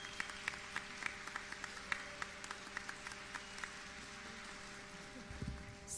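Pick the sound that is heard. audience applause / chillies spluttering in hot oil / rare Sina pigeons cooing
audience applause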